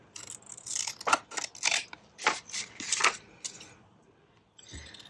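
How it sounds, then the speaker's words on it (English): Scissors snip around paper pieces for a folio tag craft in a run of quick, close crisp cuts and rustles, followed by a brief pause and a final soft paper handling sound. "I'm going to quickly cut around these"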